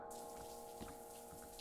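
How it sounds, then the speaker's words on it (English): A tap runs in The Morgue video game, giving a faint, steady trickle of water with a soft hum underneath, alone and without talk. "Turn on water."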